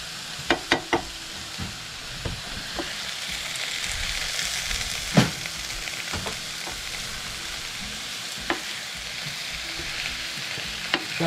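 Ground turkey frying over high heat, a steady close sizzle with scraping and stirring clicks and a few sharp utensil knocks against the pan, running continuously without talk.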